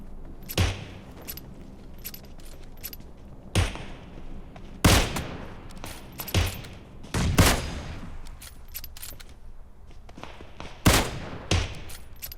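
Sniper shots in a PUBG Mobile no-scope battle, a series of isolated sharp cracks spaced unevenly a second or more apart, with some louder than others against a low background of game ambience.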